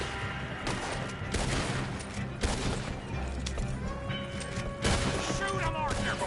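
Heavy gunfire in Red Dead Redemption 2, dense volleys of rifle and pistol shots with crashes and booms during a chaotic fight, with shouted voices over the shooting.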